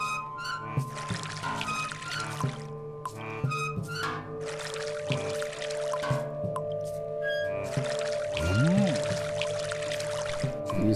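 Water pumped out and poured in the Samorost 2 video game, heard as a continuous splashing pour with trickles beneath a dense layer of game music and tones, plus one rising whooshing sweep near the end.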